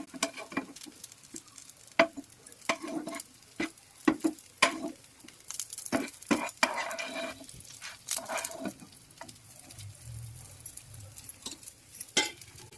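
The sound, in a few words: puffed rice (murmura) cutlet frying in a pan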